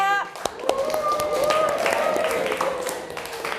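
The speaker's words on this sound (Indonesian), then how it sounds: "Ya, tepuk tangan ya." Students clap in a classroom, a brief scattered round of hand claps with a voice speaking over it.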